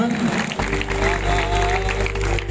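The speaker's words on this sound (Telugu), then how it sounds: "ఒకసారి చప్పట్లు కొట్టాలి అందరూ కూడా" A crowd claps together at an Ayyappa Swamy maha padi puja festival, with loud, dense applause filling the space for a couple of seconds after a brief moment of talk.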